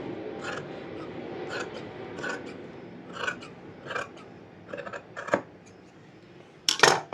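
Scissors cut fabric to fit an invisible zip on a maxi dress. The blades close in a steady series of crisp snips that are near and fairly quiet, ending in a louder metallic clack, and no one speaks.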